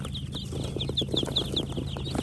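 Steady high peeping from a crowd of Barbary ducklings, chirps overlapping in a busy, continuous chorus, close by.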